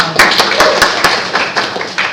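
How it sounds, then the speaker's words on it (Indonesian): Audience at a business seminar clapping for a speaker, a thin scattering of distinct hand claps with sharp, separate strikes over a low murmur of voices. "Tepuk tangan dulu untuk Mas"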